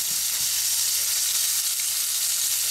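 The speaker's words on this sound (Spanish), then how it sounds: "En una sartén con aceite de oliva. Vamos a freír los trocitos de pollo." Small chicken pieces fry in olive oil in a pan, producing a loud, dense, continuous sizzle close up, with no voices.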